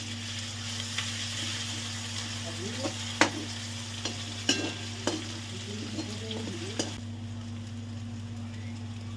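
Steady frying sizzle as ginger, green chilli and garlic paste is stirred in a pan, a spoon scraping, with a few sharp clinks of metal against the pan along the way.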